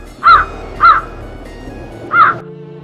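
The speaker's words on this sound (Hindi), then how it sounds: "कौवा ऊंचा उड़ने लगा, तेज हवाओं को चीरते हुए नीले आसमान में चला गया।" A crow caws three times, loud and close, two calls in quick succession and then a third after a pause, over a steady low background hum.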